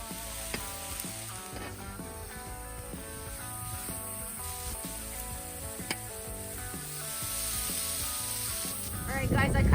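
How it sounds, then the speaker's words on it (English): Mushrooms and onions sizzling in oil on an outdoor flat top griddle, a steady soft crackling hiss throughout with occasional clicks and a brief louder burst of activity at the end. "Oh yeah, listen to that sizzle."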